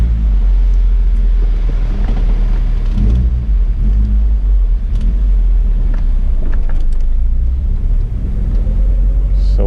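Toyota Corolla AE111 engine and intake roaring loudly and steadily while driving on the road, a constant low rumble with small swells.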